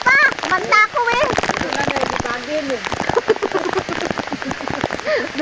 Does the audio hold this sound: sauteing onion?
no